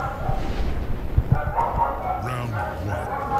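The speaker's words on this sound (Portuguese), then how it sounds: "Ô cachorro, cala a boca aí, mano." A dog barks and yips in short bursts close by, mixed with someone talking and background game audio.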